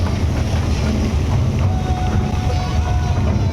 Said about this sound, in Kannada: ಇಲ್ಲಿ ಇನ್ನೊಂದು ಬೋಟ್ ಹೋಗ್ತೈತೆ.